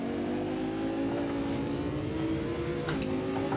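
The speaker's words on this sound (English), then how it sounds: "starting our session here and just listen to the engine" A high-revving Audi R8 V10 Plus engine drones steadily at close range on the Spa-Francorchamps track, with rising pitch and a brief shift near the end.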